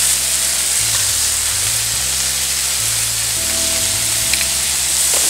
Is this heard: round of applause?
no